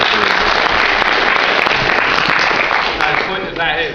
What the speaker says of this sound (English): give a round of applause as well